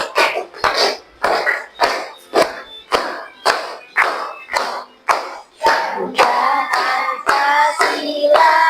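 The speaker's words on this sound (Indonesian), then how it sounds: "Dengan tepuk tangan." Fifth-grade elementary schoolchildren in a classroom clap their hands in a steady rhythmic beat, sharp close claps roughly twice per second, with singing joining in toward the end.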